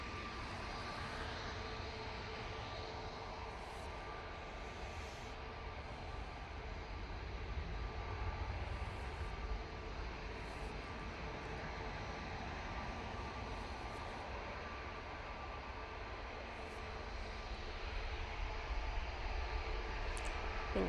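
A jet airliner departing Manchester Airport makes a steady, distant engine roar and rumble that holds almost unchanged throughout, with a faint tonal whine above it.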